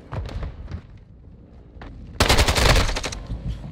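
Gunfire in Call of Duty Modern Warfare 2 Ground War, scattered shots at first, then a loud rapid automatic burst of close rattling fire in the second half, no speech.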